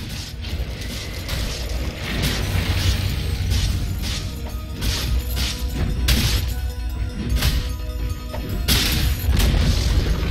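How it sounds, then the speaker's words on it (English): Dota 2 tower crumbling under attack, a dense, loud stream of mechanical crashes, booms and thwacks repeating over ten seconds amid constant battle clatter. "Dire's top tower has fallen."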